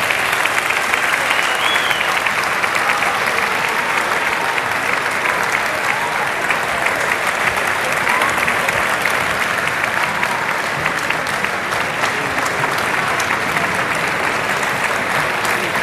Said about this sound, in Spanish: aplausos para todos los que han participado